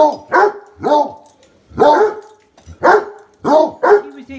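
A dog barks about seven times in short, loud, close bursts with brief pauses between them, excited at feeding time.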